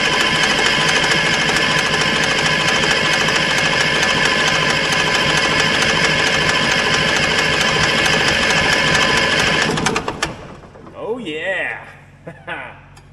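An Allis-Chalmers diesel military generator, left sitting for years, runs loud and steady with a dense mechanical drone for about ten seconds, then cuts out abruptly as voices speak over the quieting aftermath.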